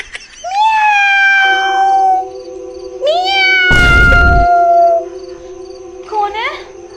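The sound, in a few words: cat meowing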